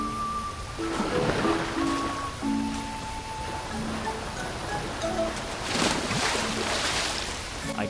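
Water rushes steadily over a waterfall in the video game Kena: Bridge of Spirits, a broad continuous wash with game music tones and faint effects layered over it.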